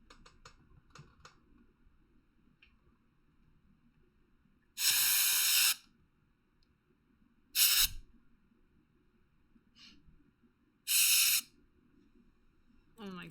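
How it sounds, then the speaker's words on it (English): Aerosol spray can hissing at electronics in three loud, broad bursts of about a second each, separated by quieter stretches with faint clicks and low background rumble. "Let me get the spray."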